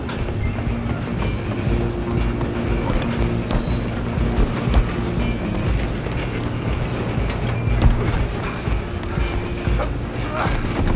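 A train in the video game Red Dead Redemption 2 rumbles and clatters continuously with metallic creaks and rattles, loud and close throughout.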